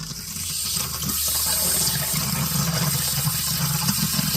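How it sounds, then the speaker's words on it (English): An RV bathroom faucet runs with air in the line, gushing and sputtering close by in a loud, uneven hiss of water and air that grows stronger and continues throughout, with no voices. "Turn on this faucet."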